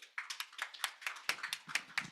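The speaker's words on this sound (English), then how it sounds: "please welcome them with a warm round of applause" A small audience at a global policy dialogue session gives faint, sparse applause, a handful of individual claps landing in a loose, uneven rhythm.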